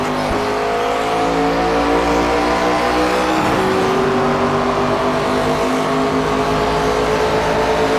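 Race car engine in the video game NASCAR 25, a loud, continuous high-revving roar with shifting pitch as the car races, steady throughout with no talk.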